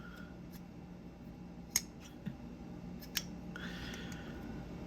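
A custom folding knife with titanium handles, zirconium parts and a Magnacut blade flicks open and shuts with a few sharp, faint metallic clacks spaced about a second apart in a quiet room.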